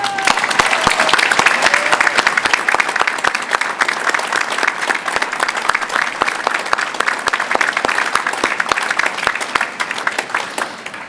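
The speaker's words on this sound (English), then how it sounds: "Will all those people please stand and join me in applauding them?" Sustained, loud applause from a large standing crowd at a university graduation ceremony honouring new Raven Society members, dense continuous clapping that fills the whole stretch with no break.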